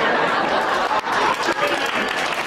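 A comedy club audience claps in a brief, scattered burst with crowd murmur under it, loud and close.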